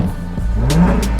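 A Jaguar F-Type sports car engine revs up, its deep exhaust note climbing and swelling loud and close over about a second, with no talk over it.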